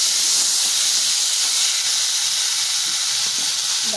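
Tomato pieces hit a pan of green chillies frying with coriander seeds and cumin for a ridge gourd peel chutney, giving a loud, close, unbroken sizzling hiss throughout.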